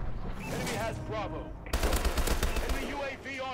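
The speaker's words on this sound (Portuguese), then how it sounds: "A Sentry Gun!" Rapid automatic gunfire from a sentry gun in Call of Duty: Advanced Warfare multiplayer on the Atlas Gorge map, a loud sustained burst kicking in midway, with game voice chatter and effects before and beneath it.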